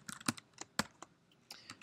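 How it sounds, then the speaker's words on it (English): Keys clatter on a computer keyboard in quick irregular bursts of light taps, a few sharper strikes standing out, fairly close and unaccompanied by any voice. "by typing in the name of the data frame"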